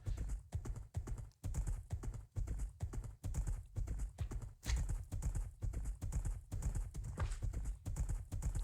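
Minecraft horse hooves clip-clopping steadily and briskly in a rapid, even rhythm, continuous and close, with no talking over it.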